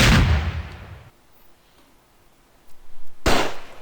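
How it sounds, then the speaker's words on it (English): A rocket launcher fires in the video game Raze 3, with a loud booming blast that decays over about a second, a quiet gap, then a second sharp explosive burst near the end. "Oh, I have a rocket launcher, is it?"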